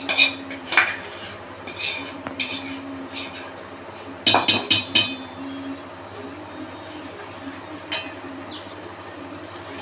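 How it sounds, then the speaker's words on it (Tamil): Three eggs and masala are whisked in a bowl with a utensil, giving a series of bright clinks and scrapes against the sides in short irregular bursts, with one louder cluster of taps partway through. "மூணு முட்டை ஊற்றி நல்லா கலக்கி வச்ச முட்டையோட மசாலாவை சேர்க்கணும்."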